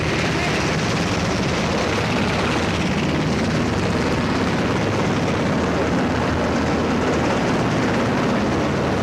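A medevac helicopter in flight carrying wounded, a loud steady rotor and engine roar filling the whole stretch, close and unbroken.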